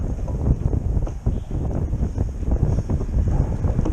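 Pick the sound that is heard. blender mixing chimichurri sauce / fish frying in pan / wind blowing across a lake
wind blowing across a lake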